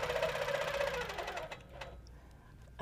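Sewing machine stitching up the side of a quilt, a rapid close mechanical whirr that runs steadily and then slows and stops partway through, followed by faint handling clicks.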